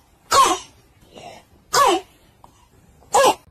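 A voice imitates the harsh, barking croup cough of a child with acute laryngitis: three loud, separate bursts spaced evenly over a few seconds, with faint breathy sounds between them.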